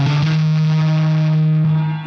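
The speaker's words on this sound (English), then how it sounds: "this electric guitar" An electric guitar drenched in effects, distorted and echoing, rings out as one loud sustained chord with a thick low drone and shimmering upper harmonics in a music production.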